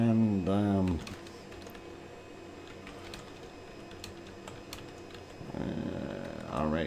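Quick clicking keystrokes tap on a computer keyboard at a steady pace, sitting under music and game sounds with a voice talking at the start and end.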